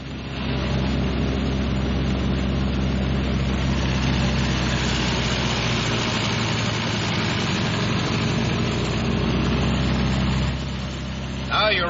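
Piston engines of a Martin B-26 Marauder bomber run steadily during a run-up check, a loud, continuous low rumble with a dense drone that holds nearly unchanged throughout.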